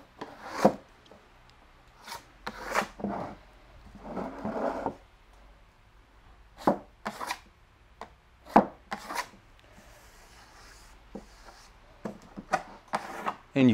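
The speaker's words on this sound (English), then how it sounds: "So I put it on and then I scrape it off." Steel trowel blade scraping a thin skim coat of Venetian plaster across a wall, a series of short rasping strokes with pauses between, moderately close and fairly quiet, no talking.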